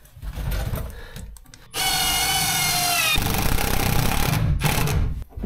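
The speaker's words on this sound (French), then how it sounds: "Donc là celle-là je vais la barder de vis partout." A power screwdriver drives screws into wood during a fit-out of an expedition truck. A loud, rising whine is followed by a rougher grinding stretch as the screw bites in, with softer handling noise before it.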